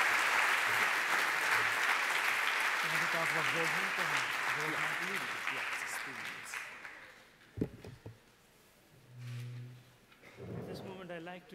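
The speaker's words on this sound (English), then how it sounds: "please let's give another big round of applause to our distinguished panelists" A large audience gives a sustained round of applause for a panel of speakers at a conference session, the dense clapping fading after several seconds as voices and murmuring rise in the room.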